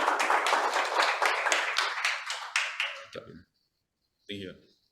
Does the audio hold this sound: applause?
yes